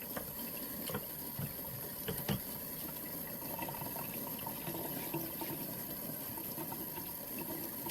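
Steady running tap water pours over sprouting seeds being rinsed, a constant close splashing wash with no speech.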